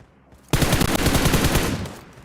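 Sudden rapid burst of automatic gunfire in the PUBG Mobile video game, during a grand final esports match, a loud, fast rattle of shots lasting about a second and a half before cutting off.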